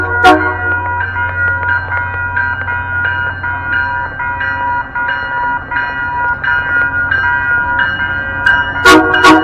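MBTA Purple Line commuter train arriving at Norfolk station, a loud close rumble with sustained tonal squeals and horn-like harmonics throughout and a sharp clatter near the end, with no talking.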